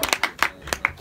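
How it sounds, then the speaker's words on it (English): Several distinct hand claps from an audience at a live Jeep Lounge music performance, a handful of sharp separate strikes spaced across a second rather than a full wash of applause. "Round of applause for us."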